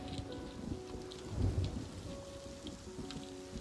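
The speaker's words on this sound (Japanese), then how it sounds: "雨が弱くなってきたな" Steady rain falls with deep rumbling thunder that swells near the middle and then settles back into a continuous wash of rain, with no voices.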